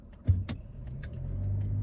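A car drives past at a traffic light, its low engine rumble rising and then holding steady close by, with no talk.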